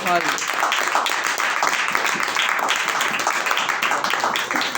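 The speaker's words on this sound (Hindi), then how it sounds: "एक बार जोरदार ताली।" Loud, dense clapping from an audience at a Hindi-language Christian gathering, sustained and even for several seconds, with voices mixed in.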